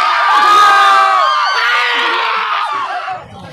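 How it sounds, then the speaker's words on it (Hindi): A large crowd of students outside a matric exam centre fills the air with loud, dense shouting and chatter, a continuous excited roar of many voices close by. "अभी भीड़ बहुत बहुत तेज लगी है, बहुत ज़्यादा लगी हुई है"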